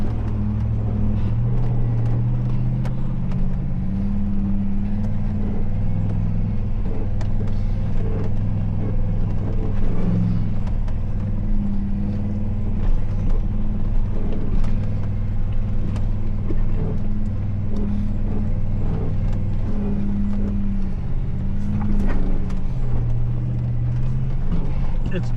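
A vehicle grinds over a very bumpy, rough dirt road on Montana's Ringing Rocks Trail, with a loud, steady low rumble and faint jolts throughout as a voice talks over it.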